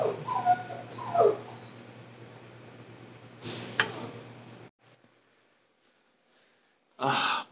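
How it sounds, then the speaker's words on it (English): A puppy whines in the background, with a few faint, intermittent whimpers and short yips spread across a quiet indoor stretch broken by brief bursts of noise. "you hear our other puppy whining in the background"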